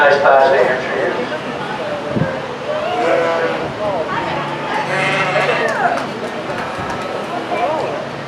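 Hampshire ewes bleat repeatedly at a youth sheep show, with several loud, close, wavering calls overlapping amid the background hubbub of an indoor show ring, and people talk at the same time.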